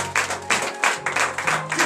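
A morning prayer congregation in Benin claps in quick, rhythmic bursts, several hands close to the microphone, over a short stretch with a faint voice beneath.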